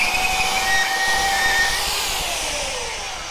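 Power sander running steadily over wood along the grain, a constant whirring hum with a faint high whine that eases slightly toward the end; no talking.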